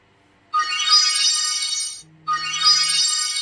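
Phone ringtone set off by the find-phone feature of a cheap Cospet Prove smartwatch: a bright, sustained electronic tone plays, pauses briefly with a faint low hum, then plays again, loud and close.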